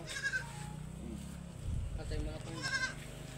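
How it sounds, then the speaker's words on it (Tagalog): Goats give two sharp, wavering bleats, one near the start and another near the end, over low rumbling background noise and faint human sounds. "Ang mga kambing natin guys"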